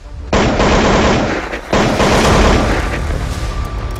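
Rapid, loud gunfire rattles nonstop during a late-night police encounter with shooters in Sushant Lok, Gurugram, as a dense barrage with a brief dip before it resumes.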